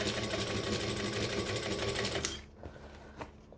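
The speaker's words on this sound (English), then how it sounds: "I'm making sure I'm stitching nice and close." A sewing machine stitches piping into a fabric panel, running in a fast, steady close whir for about two seconds before stopping, followed by a few faint clicks of handling.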